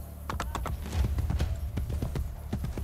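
Quick rhythmic hoofbeats of a horse trotting in Assassin's Creed Brotherhood, crisp repeated clip-clops over a low rumble of game ambience.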